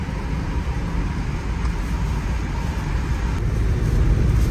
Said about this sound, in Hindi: तकरीबन 100 की स्पीड से गाड़ी मैं भी चला रहा हूँ